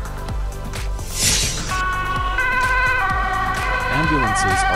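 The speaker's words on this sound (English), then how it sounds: "Ambulance." Ambulance siren wailing loudly and close, its rising and falling electronic tone cycling steadily over a low rumble of traffic.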